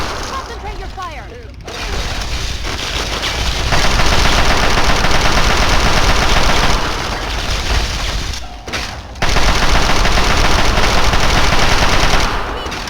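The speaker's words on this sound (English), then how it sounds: "This ends now! Concentrate your fire!" Dense automatic gunfire in the post-apocalyptic game Fallout 3, long sustained bursts of rapid shots with brief pauses and booming impacts, loud and close, with game voices shouting over the din.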